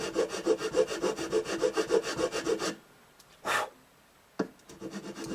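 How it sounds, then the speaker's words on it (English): A nut file rasps back and forth through a slot in the nut of a Martin D28 guitar in a rapid even run of about fifteen strokes, then stops, followed by a couple of faint scrapes and a knock. "I'll take that nut file and we will put a new nut in there, a new slot"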